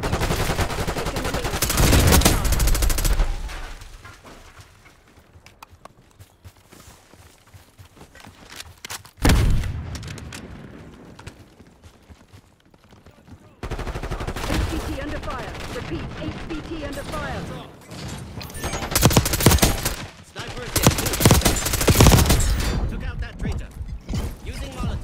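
Gunfire in the Call of Duty: Black Ops 6 video game, heavy bursts of shots and machine-gun rattle in several loud stretches separated by quieter gaps, mixed with game voice lines.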